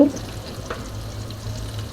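Mini chicken pieces sizzling in lightly heated oil give a constant close crackle, with faint clicks and a brief knock partway through, no voices.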